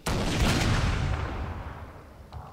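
A cannon volley from artillery in a Battle of Osaka Castle video game battle, one loud booming blast that rolls out and decays over a couple of seconds, with a faint later report and no talk.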